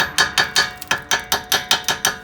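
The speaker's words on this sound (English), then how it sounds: "this is my little tapping hammer to normally use for body panels, but it comes in really handy just to knock off" Small body-panel tapping hammer striking a rusty brake caliper on a 2007 Ford Mondeo, about a dozen loud, sharp metallic knocks at a steady, even rhythm, close and alone.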